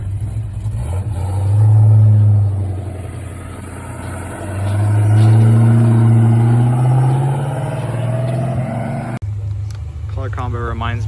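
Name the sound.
show cars driving away from a car show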